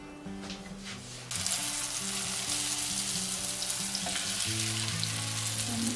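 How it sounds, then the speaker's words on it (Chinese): Floured basa fish fillets sizzle steadily in melted butter in a pan. A quieter start gives way to a loud, continuous frying hiss, with soft background music throughout. "啲牛油落溶到差唔多嘅时候咧，我就将啲鱼放落去。"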